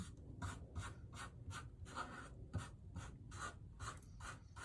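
Liquid chalk marker drawing whiskers in short repeated strokes, a steady rhythm of light scratchy rubs close up, about a dozen quick marks with no talking.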